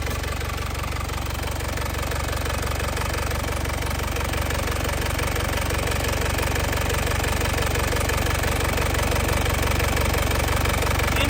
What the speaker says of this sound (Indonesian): Ini kondisi mesin posisi sudah panas ya, kondisi mesin sudah panas tanpa keluar asap ya